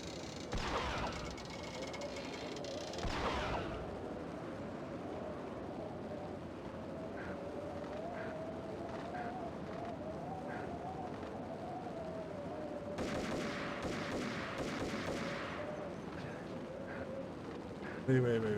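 Gunfire in the Max Payne video game, heard as two stretches of dense, rapid shot bursts near the start and again later, set against ongoing game sound while a person talks throughout.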